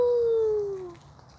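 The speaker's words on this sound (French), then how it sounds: "C'est le cri du fantôme!" A ghost's howling cry in a children's story, heard as one loud, wavering tone that slowly glides downward and fades out after about a second, with no talk.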